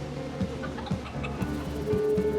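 A chicken in a pet shop clucks in short repeated notes, with a few bursts spaced about half a second apart against a busy background of shop noise.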